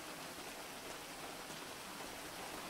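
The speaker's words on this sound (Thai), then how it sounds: "ทำไมฝนตกอ่ะ" Steady rain falls in the GTA game world, a dense even hiss of drops on surfaces that holds at a constant level throughout, faint and with no voices.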